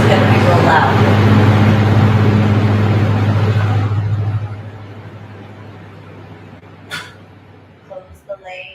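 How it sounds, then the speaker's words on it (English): Vic's truck engine roars loud and close with a deep steady rumble for about four seconds, then cuts off abruptly, leaving near silence broken by a few faint clicks and knocks. "when Vic starts his truck, it's going to be real loud"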